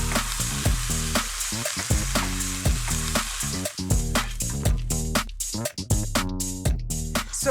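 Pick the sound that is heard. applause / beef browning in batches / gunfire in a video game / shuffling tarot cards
beef browning in batches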